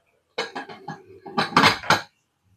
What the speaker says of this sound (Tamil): மூடி வச்சுக்கலாம்.